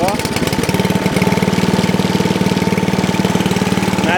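A 2012–2013 Ariens 28-inch Deluxe snow blower engine idles close by, a loud, steady, rapid chugging pulse that stays even from start to finish.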